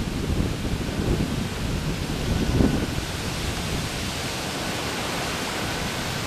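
Waves crashing on the Lake Michigan shore at Rogers Park, Chicago, a loud continuous surging roar with a brief swell in the middle, mixed with wind rumble.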